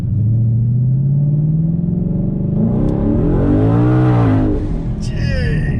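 A brand-new car fitted with twin turbos pulling away from a slight roll, its engine rumbling low and then revving hard, rising in pitch as it accelerates, with a sharp shift or turbo chirp near the end, loud and close.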